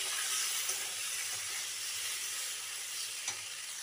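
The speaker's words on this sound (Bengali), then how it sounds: "আর 1/2 টেবিল চামচ হচ্ছে লঙ্কার গুঁড়ো দিয়ে এবার ভালো করে কষিয়ে নেব" Ground cumin and chili powder sizzle in hot oil while being sautéed for a fish curry with potatoes and pointed gourd, a steady close frying hiss with a few faint stirring scrapes.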